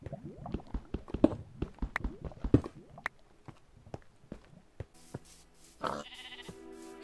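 Minecraft sheep bleating in game, with a quick run of clicky blocky footsteps and tapping sounds, then a short bleat and a tonal chime later on, with no speech.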